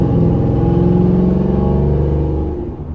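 A 2005 GMC Sierra regular-cab short-bed pickup with headers, a Norris cam and a Corsa exhaust drones steadily while cruising at about 55, a loud deep rumbling tone that holds even and eases off slightly at the end.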